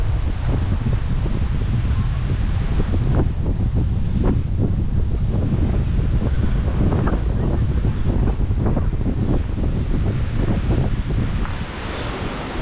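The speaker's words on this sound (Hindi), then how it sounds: "हवा अच्छी खासी तेज़ चल रही है" Strong wind blowing at a lakeside where boating is underway, a loud, continuous roar buffeting the microphone with gusty rumbling throughout and no pauses.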